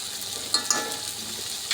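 Spices and masala paste with salt fry in a pan for an egg korma, giving a soft continuous sizzle with a couple of quick stirring scrapes, close and moderately quiet.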